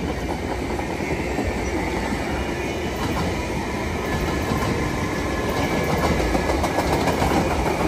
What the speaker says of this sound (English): there go that train on its way to Tabian